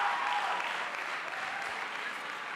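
Steady applause from a concert audience at a St. Nicholas concert, sustained and even throughout, a broad wash of clapping with no voices standing out.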